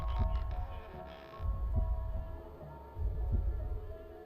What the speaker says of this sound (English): everything goes blurry as you hear Roxanne's heartbeat